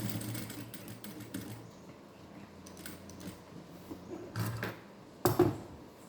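Sewing machine stitching fabric with a soft mechanical whir that stops and starts, mixed with light clicks and a louder rattle near the end.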